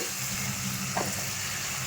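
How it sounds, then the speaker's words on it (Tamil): Masala sautéing in hot oil for a chicken gravy gives a steady, dense sizzle and frying hiss from start to finish, with one brief stirring scrape near the middle. "2-3 நிமிஷம் வதக்கினா போதும், வதங்கிடும்."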